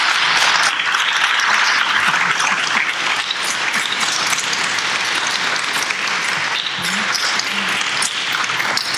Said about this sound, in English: And the audience may now applaud.